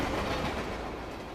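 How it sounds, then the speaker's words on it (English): A freight train speeds along the rails with a dense, steady rumbling roar of wheels on track, loud and continuous for a brief stretch with no voices. "the train was speeding up"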